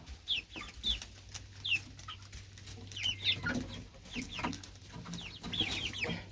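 Black and white Plymouth Rock chickens, barred-type birds in a garden, cluck in repeated short bursts near and clear, several hens overlapping with soft background rustle.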